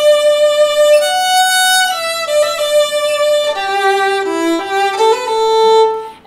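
Solo violin plays the intense bridge of a song from Pocahontas, a sustained, bright melodic line with smooth note changes, loud and close, with no talking.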